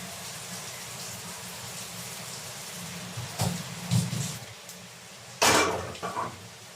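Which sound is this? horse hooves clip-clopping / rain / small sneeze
rain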